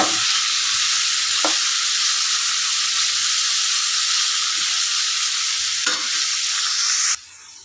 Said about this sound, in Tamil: பாருங்கள் இது நல்ல சுருளை வதங்குது